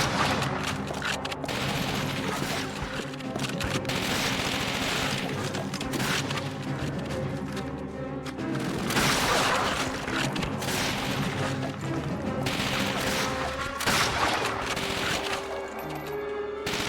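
MG42 machine gun fire rattles through a Call of Duty: Finest Hour battle on the Eastern front, with long rapid bursts mixed with heavy booms and explosions, loud and continuous across the whole stretch.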